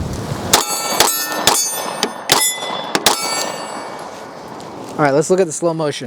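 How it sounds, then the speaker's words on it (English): Several sharp gunshots from a Shalotech pistol ring out one after another, each a bright crack with a metallic ring, followed by someone talking briefly at the end. "now I'll shoot the Shalotech"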